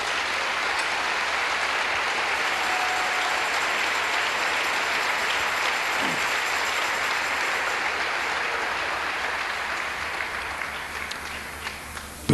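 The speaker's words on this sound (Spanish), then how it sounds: "Le damos un aplauso al Señor." A church congregation gives sustained applause during a sermon, a dense and even wall of clapping that runs for about twelve seconds and eases off slightly at the end.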